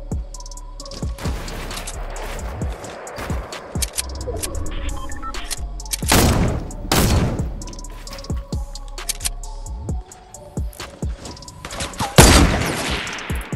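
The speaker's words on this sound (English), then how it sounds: "Dude, this kid's got so many grenades" Repeated grenade blasts and gunfire in a Fortnite match, several sharp loud explosions spread across a rapid stream of game weapon fire and clatter, with no talk.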